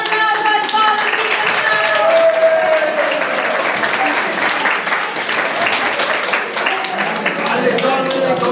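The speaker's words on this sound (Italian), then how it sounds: "Un grande applauso" A crowd applauds with sustained, dense clapping at a Women's Day event while music plays underneath.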